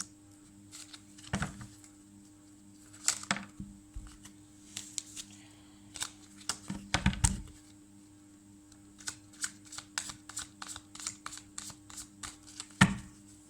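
Tarot cards being shuffled by hand, a run of soft quick riffling and tapping bursts at irregular intervals, close and quiet in an otherwise still room.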